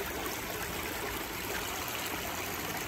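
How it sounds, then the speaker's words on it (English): Water pours over a small negative-edge backyard waterfall lined with gravel and river rock, producing a steady, even rush with no pauses and no voices. "There's the main falls."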